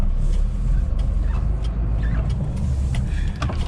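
An HGV class 2 delivery truck drives out on a UK delivery run, its engine a loud, steady low rumble with road noise throughout and a few faint knocks and rattles from the cab.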